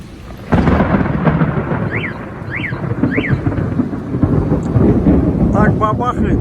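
Loud thunder booms and rolls through a rainy thunderstorm in Samara, with steady rain hiss underneath, a brief chirping car alarm set off by the blasts, and a few faint sounds near the recorder.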